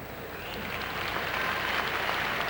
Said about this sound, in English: they start applauding to cheer him up